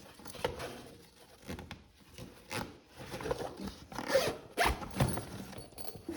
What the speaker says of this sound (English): No pockets, but it does zip shut.